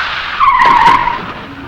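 The front tire of a 1980s BMW 325i sedan squeals briefly while the car turns under braking on a driving-school track. It is a loud, close screech lasting under a second over the engine noise.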